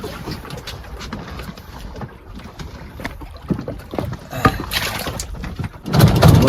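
A small boat moves along the fast-flowing Bidyadhari river, with a steady rumble and water wash, gusty wind buffeting the microphone, and a louder surge near the end.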